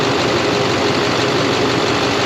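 A Chevrolet Silverado pickup engine idles steadily at close range, a loud, constant broadband rumble with no breaks and no voices over it, under electrical load with the high beams on and an exhaust manifold leak.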